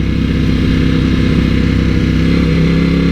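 Italian superbike motorcycle engine droning loud and steady while riding, a continuous close rumble that holds throughout with no speech.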